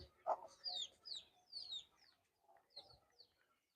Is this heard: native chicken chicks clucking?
yes